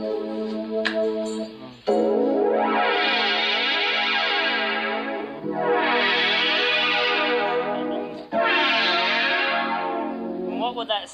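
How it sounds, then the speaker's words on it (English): A guitar synthesizer set to play in fifths with its duet switch on rings out in three long, loud, buzzy sustained chords with a rich chorused, distorted tone, each swelling and holding for several seconds after a brief opening note. "I've just switched it into fifths."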